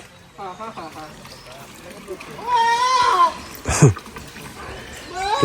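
Several goat bleats, wavering and nasal, come at intervals alongside running water and a short splash, with people talking nearby on a farm.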